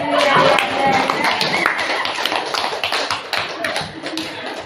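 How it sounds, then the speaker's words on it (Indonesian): Scattered clapping from a classroom group breaks out while a voice is still speaking at the start, then continues as loose, uneven hand claps of moderate loudness. "Mari kita tepuk tangan"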